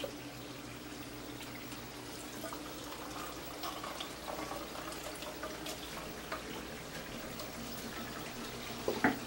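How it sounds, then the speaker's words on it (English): Water poured off browned ground meat in a pan while making spaghetti sauce, a steady close trickling and splashing into a sink that runs continuously for several seconds, with a louder burst of splashing at the end. "I want to drain the water off of this so that when we end up finished with the meat, it's dry"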